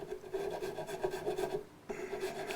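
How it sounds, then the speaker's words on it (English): Rasp filing the bridge of a Martin HD28 acoustic guitar: steady back-and-forth scraping strokes, close and fairly loud, with a brief pause before the rubbing resumes. "rasp is probably a good idea. Take quite a bit in one go"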